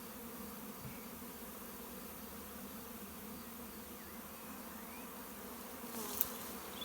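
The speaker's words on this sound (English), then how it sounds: "Let's give these bees a bit of room. They're just starting to fly around a bit." A swarm of honey bees flies around a swarm trap box beside a hedge, giving a faint, continuous, even buzzing with no voices.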